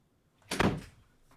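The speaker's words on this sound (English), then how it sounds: "I hear the shut up and the door slam" A single door slams shut in one sharp, heavy thud that decays quickly, with near silence before and after.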